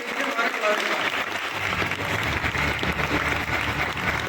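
Audience applause at an open training program in Saharanpur, a steady dense clapping from a crowd filling the room, with voices and chatter mixed in throughout.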